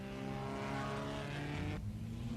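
1950s Grand Prix race cars, a Maserati and a Formula 2 Cooper, racing at the Nürburgring, with a loud sustained engine howl that drops sharply in pitch near the end as a car passes.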